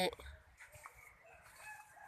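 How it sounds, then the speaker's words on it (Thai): Chickens in a coop cluck and call from close by after rain, short bursts overlapping with faint background noise and a brief voice at the start. "นู่นไก่อยู่ในคอก"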